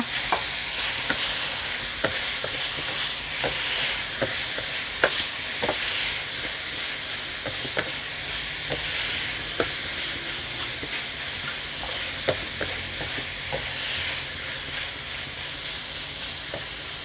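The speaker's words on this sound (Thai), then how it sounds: "เอาหน่อไม้ลงไปผัดเลยค่ะ" Steady sizzling of boiled bamboo shoots stir-frying in a pan, with repeated scraping and clinks of a utensil stirring throughout, close up and continuous.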